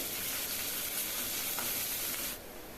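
Finely chopped onions sizzle steadily in hot oil, a dense continuous crackling hiss close up, with no voices, easing slightly near the end.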